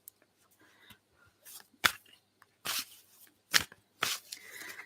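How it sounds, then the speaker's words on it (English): A deck of tarot oracle cards being shuffled by hand in a quiet room, giving several soft, brisk riffling bursts with short pauses in between and no voices. "I will just shuffle them and see if something comes up for you"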